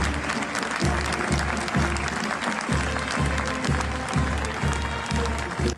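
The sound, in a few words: crowd applause as the coffin leaves the church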